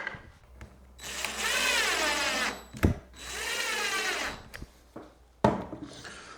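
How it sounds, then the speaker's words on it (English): A power drill whirs in two sustained bursts, rising and falling in pitch, drilling two small screw holes in a wooden LED light bar, with short clicks and knocks between them. "what I did do is drill 2 little screw holes that I'm going to put right there"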